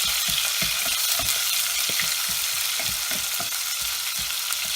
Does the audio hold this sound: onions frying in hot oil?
yes